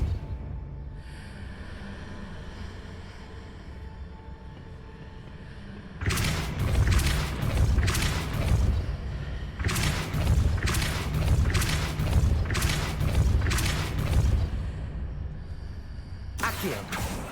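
Depulso force spells fired in Hogwarts Legacy land as a series of loud, punchy blasts, a first burst after a quiet stretch, then several rapid bursts in a cluster and one more at the end.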